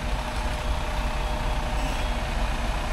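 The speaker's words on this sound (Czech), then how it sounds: "už je tady další Mercedes Arox, zase klasický 8 kola, soufá pumpě k násypce" Mercedes Arocs eight-wheel concrete mixer truck reversing up to a concrete pump hopper on a building site, its diesel engine a steady, loud, continuous rumble throughout with no talking.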